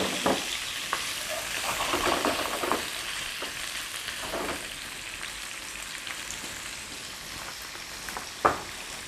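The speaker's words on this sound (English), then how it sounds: "Tofu needs to basically fry a little first in the oil" Organic tofu frying in oil for a rice noodle stir fry, a continuous close sizzle with soft crackles and occasional utensil taps.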